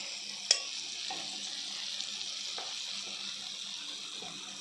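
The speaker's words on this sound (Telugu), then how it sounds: "అల్లము తెల్లగడ్డ పేస్ట్ ఇది బాగా కలుపుకోవాలి" Ginger garlic paste fries in a pan with a steady, even hiss, faint stirring scrapes and a single sharp click near the start.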